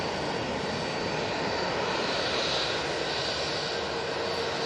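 Airliner departing Manchester Airport, an even, steady jet roar at middling distance, unbroken and without voices.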